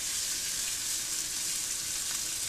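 Desiccated coconut goes into a hot frying pan for a Bengali-style beef rendang, giving a steady, close hiss of frying that holds evenly throughout with no talk.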